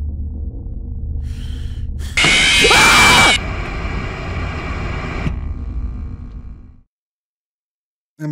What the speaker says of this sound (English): That was a genuine scream.